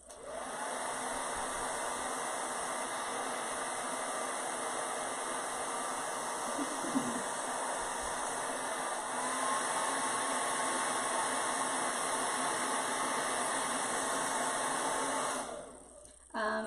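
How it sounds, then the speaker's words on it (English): A hair dryer blows continuously with a steady, loud whooshing whir before cutting off abruptly near the end. "is there a reason you use a hairdryer and not a heat gun?"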